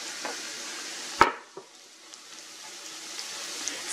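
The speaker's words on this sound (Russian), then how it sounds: "И в горячий лук я высыпаю чеснок мелко порезанный." Finely chopped garlic drops into hot fried onion in oil, giving a brief sharp sizzle and clatter followed by a soft, fading crackle, close and alone.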